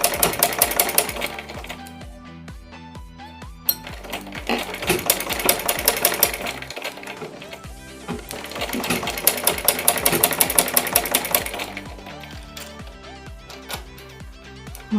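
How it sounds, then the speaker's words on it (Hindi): A sewing machine runs a thick basting stitch along the neckline of a suit, giving loud bursts of rapid, even stitching that pause briefly and start again throughout. "मोटी बखिया कर लें।"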